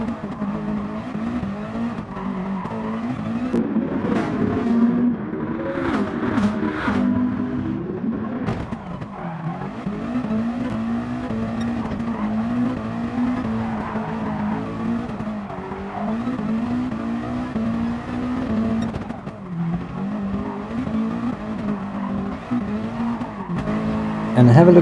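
Gr.2 race cars lapping Fuji in GT Sport, with a loud, steady engine drone that rises and falls through gear changes, bursts of tire squeal and skidding in the corners, and a narrator talking over the racing.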